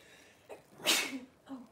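A single sharp sneeze bursts out close by, preceded by a soft intake of breath and followed by a faint murmur, in an otherwise quiet room.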